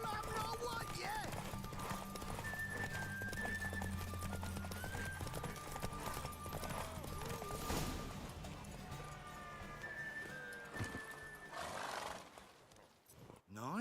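Roach, the horse in The Witcher 3 video game, clip-clops along at a gallop, with whinnies and game sound effects mixed in and voices talking over the hoofbeats.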